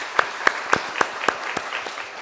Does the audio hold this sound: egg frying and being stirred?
no